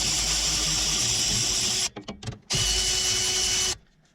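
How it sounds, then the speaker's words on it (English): A power tool such as an impact wrench or ratchet loosens the two 14 mm bolts holding a rear brake caliper on a Toyota Highlander. Two loud, continuous whirring runs are separated by a brief stuttering pause, and the sound ends abruptly. "We're going to remove the 2 bolts that hold the caliper in"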